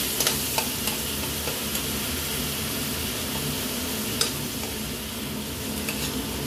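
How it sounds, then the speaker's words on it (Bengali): Onions stirred and frying in a pan for a katla fish curry, a continuous loud sizzle broken by a few sharp clicks and scrapes of the spoon against the pan. "পেঁয়াজটার কাঁচা গন্ধটা চলে যাওয়া পর্যন্ত একটু নাড়াচাড়া করব।"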